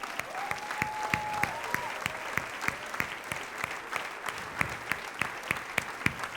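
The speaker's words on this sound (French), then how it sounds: "Est-ce qu'on peut se lever, les applaudir très," A church audience at a Christmas service stands and applauds hard and steadily, with sharp individual claps standing out over a dense wash of clapping, and no voices over it.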